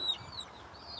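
Barnyard mix chickens cluck softly in a backyard garden coop, a short run of low murmuring clucks with a faint higher call over mild outdoor ambience.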